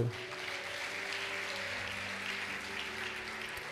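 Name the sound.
church audience applause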